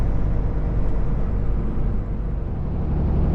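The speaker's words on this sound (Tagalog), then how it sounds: "Traffic lagi dito." Steady road traffic rumble on Baltimore streets near Dundalk Avenue and the I-695 ramp, a continuous low, dense drone heard from inside a moving vehicle with no talking.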